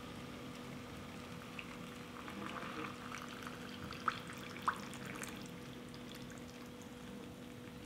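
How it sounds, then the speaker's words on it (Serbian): Boiling water is poured into glass jars, a soft continuous bubbling and trickling stream with two small clinks partway through. "Voda je proključala i sada ću napuniti tegle."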